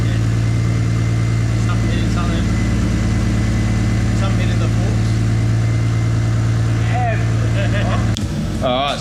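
A Barra-engined Nissan R31 wagon with a titanium exhaust idles with a deep, steady rumble and a raspy exhaust note, a voice speaking briefly over it before the sound drops near the end.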